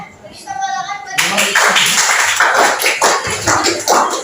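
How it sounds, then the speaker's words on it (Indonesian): Students in a chemistry class burst into a round of clapping, close and fairly loud, after a brief spoken voice at the start. "Beri tepuk tangan buat"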